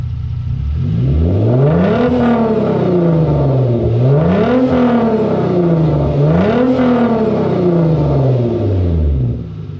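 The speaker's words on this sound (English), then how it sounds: "these are going to be the revs with the cap off" Hyundai Genesis Coupe engine revving with the cap off, climbing three times in long sweeping pulls with a whining, supercharger-like whistle, loud and close with no talking.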